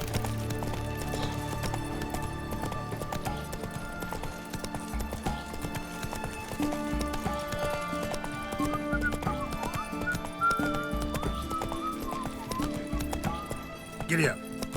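Roach the horse gallops in Witcher 3: Wild Hunt, rapid rhythmic hoofbeat clip-clops over a game music bed, with a whinny near the end and a voice talking over it.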